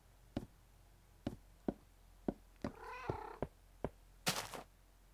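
A cat in the video game Minecraft gives a short, wavering meow midway through. Sparse, close clicks and taps come at irregular intervals around it, and a brief louder burst follows near the end.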